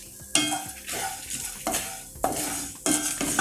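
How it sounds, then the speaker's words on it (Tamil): Chana dal and asafoetida roast in a pan with a close sizzle, broken by repeated spoon stirs and scrapes against the metal, and no talking. "இந்த ஸ்டேஜில் இல்லை பெருங்காயமும் போட்டு வறுத்துடுறேன்."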